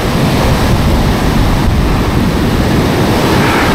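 Loud, continuous roar of surf breaking on a New Jersey beach during fall striped bass fishing, dense broadband wash with wind buffeting the microphone and no voices.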